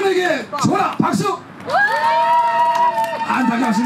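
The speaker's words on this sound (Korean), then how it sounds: "1번에게 줘라 박수" Lively applause and shouts from an outdoor cherry blossom festival audience backing the first contestant, while an emcee speaks loudly over the continuous cheering.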